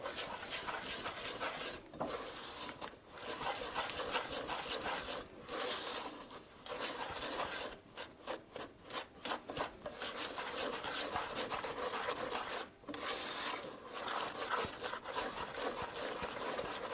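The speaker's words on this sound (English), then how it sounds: "We're going to whisk that together." Dry sugar, cornstarch, cocoa powder and salt are whisked together in a bowl, giving a steady scratchy rasping with brief pauses and a quick rhythmic flurry of strokes near the middle, close and alone.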